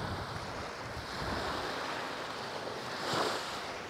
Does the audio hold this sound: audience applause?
no